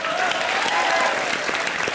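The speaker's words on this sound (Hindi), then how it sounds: "सना खान के लिए जोरदार तालियां" Loud, dense applause from a comedy show's studio audience for Sana Khan, a steady, close roar of clapping filling the whole two seconds.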